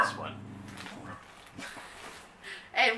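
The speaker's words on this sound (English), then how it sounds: "Now our dog's barking." A pet dog barks and yips in a home, short bursts rising under and between ongoing conversation, with a sharper bark near the end.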